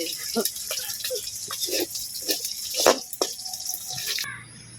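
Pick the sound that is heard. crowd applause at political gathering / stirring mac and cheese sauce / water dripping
water dripping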